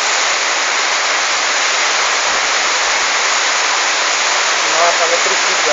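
Heavy rain pours down outdoors in a dense, loud, unbroken hiss that stays steady from start to finish, with a faint voice surfacing briefly near the end.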